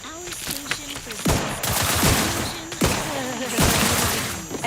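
Sci-fi gunfire in The Outer Worlds 2 combat, rapid bursts of loud close shots in several volleys, with a synthetic voice speaking between and under the firing.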